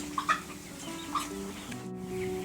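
Free-range turkeys, about 4,000 birds packed in a barn, give off a constant low gobbling murmur with a few brief louder calls rising above the crowd.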